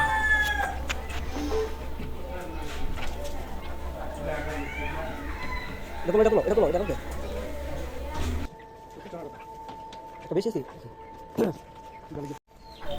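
Chickens, a batch of about 50 birds being unloaded on a poultry farm, cluck and squawk now and then while a person talks over a background hum; there are a few louder bursts of agitated clucking.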